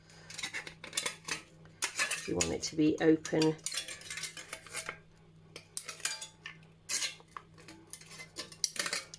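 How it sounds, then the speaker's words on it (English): Scissors snip and crunch through a thin aluminium drinks can in a series of sharp metallic cuts and scrapes, close up, with a few brief spoken words between the cuts. "your scissors should still be strong enough to do this"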